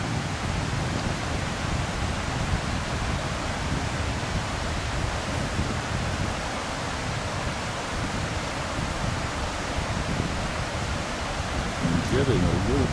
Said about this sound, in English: you'll see the river or the creek or whatever that is, making all that beautiful